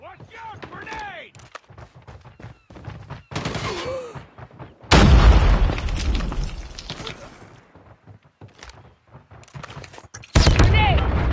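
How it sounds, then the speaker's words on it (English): Gunfire and grenade blasts in COD Mobile ranked play on the Hijacked map: bursts of rapid shots and heavy booming explosions alternate with quieter gaps, while game voice callouts speak over the action. "Watch out, grenade!"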